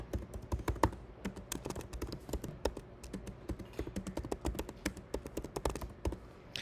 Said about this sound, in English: and then watch as we type.